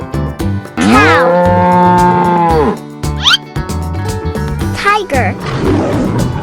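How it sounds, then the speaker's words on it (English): A drawn-out cartoon cow moo sounds loud and close, followed by shorter mooing and growly animal calls mixed with lively sound effects. "cow"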